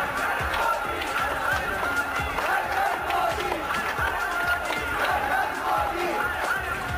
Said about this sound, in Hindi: सड़क के दोनों ओर लोगों की भारी भीड़ जमा हो